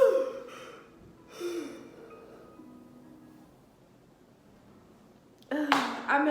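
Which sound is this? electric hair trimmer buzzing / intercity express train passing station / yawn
yawn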